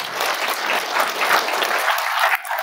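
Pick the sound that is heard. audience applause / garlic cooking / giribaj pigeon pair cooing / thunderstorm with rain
audience applause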